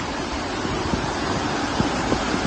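A river flows at a camping ground among rice fields in Pamijahan, Bogor, a broad continuous rushing wash of water, loud and close, with no voices over it.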